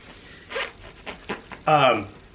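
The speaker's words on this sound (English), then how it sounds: "Test all of the zippers." The zipper on a jeans fly is pulled up and down a few times in short bursts, close by, with a brief rasping zip near the end and quiet room sound between.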